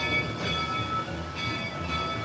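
Colorado tourist train at Devil's Gate Station in Georgetown, Colorado, rolling past in a continuous close rumble, with faint brief bursts that may be horn or wheel noise rising over the steady rail roar.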